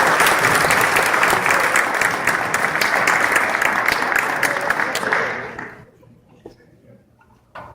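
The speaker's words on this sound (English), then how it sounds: "All right, round of applause for the program." Loud, dense audience applause at a boys' high school basketball end-of-year banquet, sustained for about five seconds and then quickly dying away to near silence.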